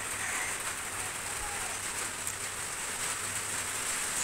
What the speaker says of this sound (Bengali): বৃষ্টি পড়ছে হালকা